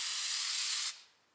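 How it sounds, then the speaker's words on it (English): A can of theatrical spray fog releasing a steady, close hiss that holds evenly for nearly a second and then cuts off, leaving only a faint trailing fade. "There's different brands that make spray fog."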